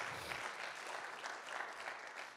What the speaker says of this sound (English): Somebody clap your hands if you agree with me this morning.